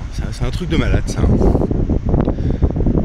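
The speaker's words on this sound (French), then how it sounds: "Même à 6h40, il y a toujours du vent" Wind gusts buffet the microphone at 6:40 in the morning outside a hotel on Lanzarote. The rumble is steady and loud throughout, with a voice talking over it.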